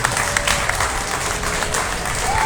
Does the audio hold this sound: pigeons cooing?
no